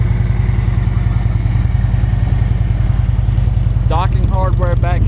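Harley-Davidson Road Glide Custom FLTRX motorcycle with Reinhardt Racing exhaust idling up close, a loud steady lumpy V-twin throb, with someone speaking briefly near the end.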